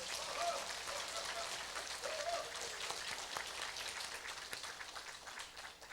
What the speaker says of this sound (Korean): 우리 이광진 담임 목사님께 박수 한번 치겠습니다